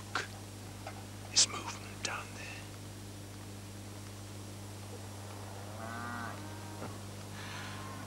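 Stray cattle low somewhat far off at a frontier fort, giving a drawn-out moo under a constant low hum. Quiet whispered voices and small clicks come before it.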